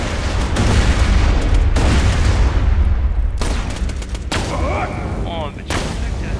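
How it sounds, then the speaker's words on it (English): Grenade blasts and rapid gunfire crash through a Borderlands 2 firefight, loud booms and volleys rolling one after another, with bursts of broadband noise and brief gaps between explosions. "So how about you eat some grenades?"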